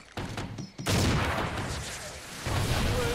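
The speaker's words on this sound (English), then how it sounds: "that's multiple explosions to the face" A burst of loud, dense gunfire and explosions from Call of Duty: Ghosts multiplayer erupts and rolls on continuously, with a brief drop before swelling again.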